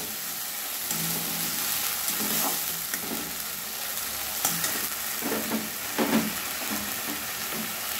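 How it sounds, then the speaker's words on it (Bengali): Ginger garlic paste frying in a pan for katla kalia, a loud continuous sizzle broken by repeated scraping stirs, no talking. "এবারে আদা রসুনের পেস্ট দিয়ে দিলাম।"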